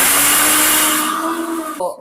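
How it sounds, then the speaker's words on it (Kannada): A mixer grinder whirs loudly and steadily as it blends sugar and spices for a Karnataka home recipe, then cuts off abruptly near the end, leaving a brief faint rattle. "ಮಿಕ್ಸಿ ಮಾಡ್ಕೋತಾ ಇದ್ದಾರೆ"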